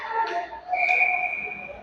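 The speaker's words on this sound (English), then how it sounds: "And we're going to have a whistle on the play." A referee's whistle sounds at an ice hockey game, a loud sustained blast with a shorter chirp before it, clear over arena noise.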